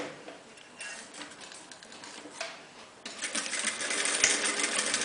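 A sewing machine stitches Turkmen embroidery onto a dress, its presser foot running along the embroidery's edge. Steady, close mechanical whirring and ticking at moderate level, rising in intensity and speed partway through.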